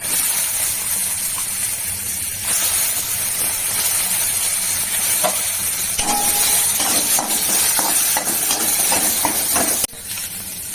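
Green chillies and chopped onion dropped into hot oil for a fish curry, sizzling with a loud, constant hiss and crackle that holds throughout, with faint clinks of a spoon near the end.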